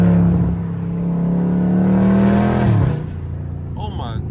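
A Dodge Charger Scat Pack engine drones loudly and close while driving in rainy traffic, holding a deep steady note before it tapers off, with a faint voice after it quiets.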